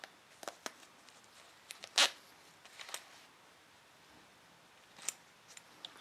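A zipper slider is worked onto the separated zipper teeth, giving sparse small clicks and ticks, with one sharper brief rasp and a few faint taps in a quiet room.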